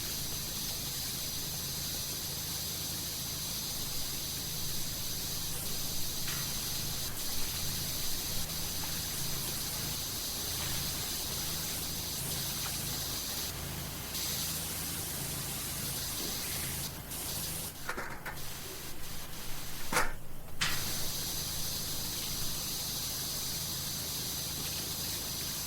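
Steady pressure washer spray from the video game Powerwash Simulator, a continuous broadband hiss that runs loud and unbroken throughout, with a couple of brief dips and shifts in texture near the end and no talking.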